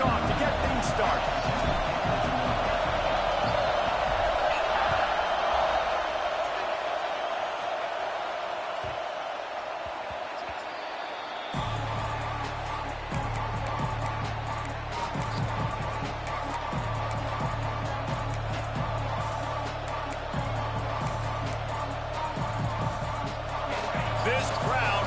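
Loud stadium crowd roaring continuously in an EA Sports College Football game, Alabama against LSU at kickoff, with play-by-play commentators talking over the din throughout.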